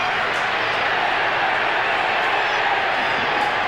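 Crowd at a 1991 Australian football match between Fitzroy Lions and West Coast, a steady broadband roar of shouting spectators that stays constant and fairly loud throughout.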